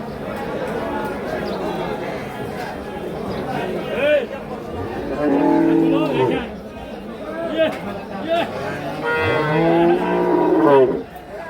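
Cattle mooing at a traditional rural livestock market where Holstein Friesian dairy cows are sold, several drawn-out low calls rising over a steady crowd of chatter and bargaining voices.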